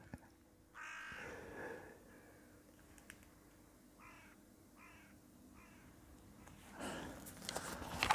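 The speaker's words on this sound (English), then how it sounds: "Crows going off there." Crows caw outdoors, with three evenly spaced hoarse calls at moderate distance and an earlier harsher caw, all fairly quiet over a low steady background.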